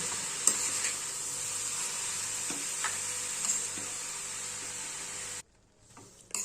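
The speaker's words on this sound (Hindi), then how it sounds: "गैस की फ्लेम को लो पर करते हुए गाजर को 10 मिनट के करीब भूनेंगे।" Grated carrots roast in a pan over a low gas flame, with a soft, steady sizzle and occasional scrapes from stirring; it cuts off near the end and no one speaks.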